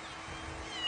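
Kitten meowing in a short, continuous cry, close and fairly loud, with no talking over it.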